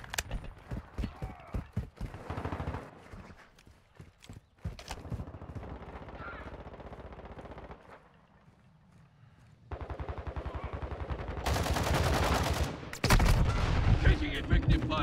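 Gunfire in Call of Duty Modern Warfare 2 multiplayer with an M4, rapid close bursts of shots in rhythmic strings, loud and dense near the end, with brief game voice callouts between.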